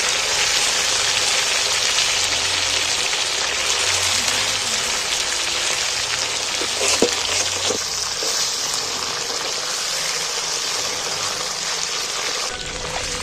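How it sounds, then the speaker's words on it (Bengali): Chicken pieces frying in hot oil as they are flipped in the pan, a loud, steady, rain-like sizzle with a few clinks of the utensil partway through. "আমি বাদ বাকি মাংসগুলো ফের উল্টিয়ে ভেজে দিচ্ছি একবার।"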